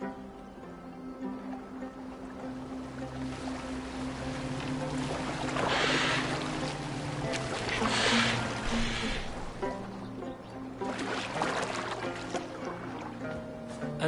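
Boat gliding across water in Assassin's Creed Valhalla, with a continuous wash of water and swelling splashes over a low, sustained musical drone; no speech.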